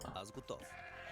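Sheep bleating in the Age of Empires 2 Definitive Edition strategy game on the Arabia map, a few short bleats under steady in-game sound and voice talk.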